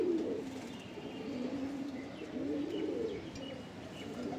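Madrasi pigeons coo continuously up close, low throaty rolling calls rising and falling in waves with a few faint chirps, and no voices present.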